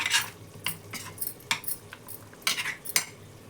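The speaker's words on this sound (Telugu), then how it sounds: "ఒకసారి బాగా కలిపేసుకుని" A spoon scrapes and clinks against a pan of simmering Andhra-style chicken gravy curry in several quick strokes, metallic taps spaced irregularly over a quiet background.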